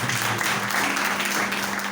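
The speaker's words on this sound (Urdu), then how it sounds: "زوردار تالیاں خداوند کے لیے دیں" A church congregation gives a loud, sustained round of applause at an evangelist's service, dense and steady clapping throughout with a faint hum underneath.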